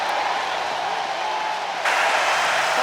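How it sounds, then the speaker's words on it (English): Football stadium crowd at a Florida Gators versus Kentucky Wildcats game, a steady loud roar of massed voices that surges louder near the end, with no talk over it. "This crowd is rocking right now."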